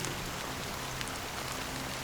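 Steady rain falls in the video game Honkai: Star Rail, a dense even hiss of drops hitting surfaces, quiet and continuous with no voices.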